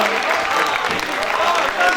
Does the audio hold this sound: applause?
yes